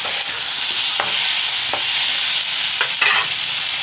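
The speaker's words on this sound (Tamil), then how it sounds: "எண்ணெயில் வதக்கி கத்திரிக்காய் குழம்பு வைக்கிறது சுவை கூடும் இங்கே நல்லா வதக்கி கொடுங்க" Oil sizzles steadily in a pan, close up, as eggplant is sautéed for a Karaikudi-style kuzhambu, while a utensil scrapes and stirs through the food now and then.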